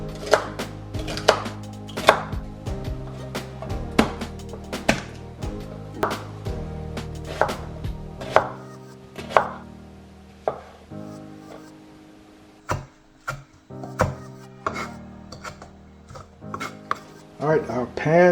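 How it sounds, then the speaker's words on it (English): A knife chops fresh rosemary and thyme on a cutting board in a home kitchen, giving sharp, close, uneven bursts of thuds with brief pauses between runs. "Let me get these chopped up."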